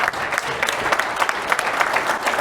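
An audience breaks into dense, steady applause at the unveiling of the WLAN Pi Pro Max, a continuous patter of many hands with no voices.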